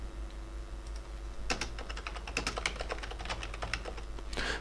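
Computer keyboard typing begins after a short hum-filled pause, then a quick, irregular run of close, crisp keystrokes with a final burst at the end.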